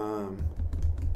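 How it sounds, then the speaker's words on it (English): A brief voice gives way to a quick, close run of computer keyboard keystrokes lasting under a second. "then I can type a category"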